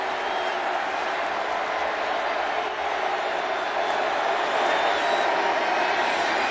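A large crowd at a Cotton Bowl college football game between Memphis and Penn State roars in a steady, sustained cheer that fills the stadium. A commentator speaks over it at moments.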